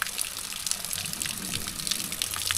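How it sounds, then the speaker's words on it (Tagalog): Water flowing from a natural spring on a farm lot into a small stream, a steady close gushing and splashing that continues without break. "Pero ito yung bukal"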